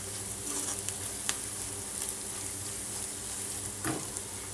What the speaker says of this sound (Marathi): याला परतून घेऊ, कारण खोबरं आपलं कच्चं आहे, खोबरं पण भाजलं जातं छानपैकी